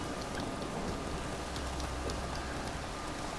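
Rain falling in Skellige in The Witcher 3, a steady dense hiss of drops at moderate level, even and unbroken with no voices.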